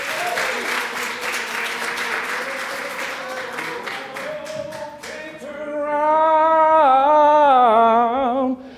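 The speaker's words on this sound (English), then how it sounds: "Let's give him a round of applause while he comes in." An audience applauds as a performer enters for a reenactment; dense clapping fills the first five seconds, then fades out as a sustained, tuneful voice rises alone.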